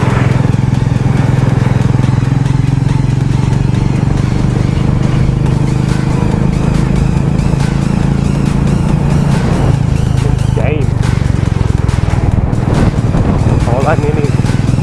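A KTM motorcycle engine runs while riding on a winter road ride in India, a loud continuous low drone with wind rush, close and steady throughout, with someone talking over it.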